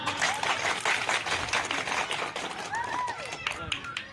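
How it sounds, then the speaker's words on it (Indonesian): Audience applause at a village meeting about hamlet official appointments, a continuous patter of clapping with voices talking over it. "Tepuk tangan."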